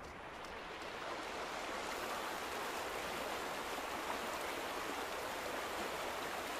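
Flowing water rushing steadily in the exploration game The Vanishing of Ethan Carter, a continuous broadband stream-like wash holding at an even, moderately loud level throughout with no voices.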